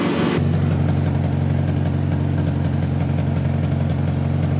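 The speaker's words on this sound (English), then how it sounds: "Yeah, definitely some bad misfiring there." A Fox Body Mustang with a custom ignition system idles roughly with bad misfiring, a loud, close, uneven engine rumble with irregular stumbles throughout and no talk.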